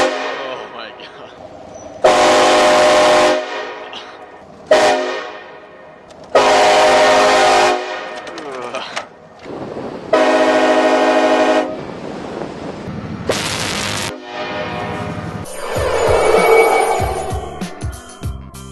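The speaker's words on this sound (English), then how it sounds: "I have a funny feeling I'm about to get scared by a train horn." A train horn blasts four times in long, loud, separate bursts with quieter rumbling between them, followed by a louder rush as the train passes close by.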